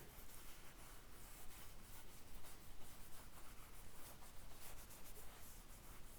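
Cloth rubbing and wiping wood dye off a wooden table, a steady close scratchy friction with no pauses and no voices.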